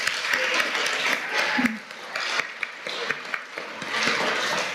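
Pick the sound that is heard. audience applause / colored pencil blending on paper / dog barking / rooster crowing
audience applause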